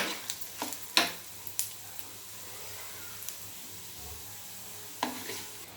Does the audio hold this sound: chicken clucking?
no